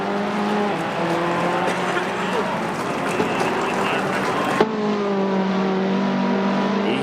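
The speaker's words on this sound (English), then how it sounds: "You hear those engine noises popping down through the gears." Race car engine in the Dallara esports racing game revving and dropping through gears, with pitch sweeps and sharp shifts, heard under steady commentary, with a sudden cut partway through.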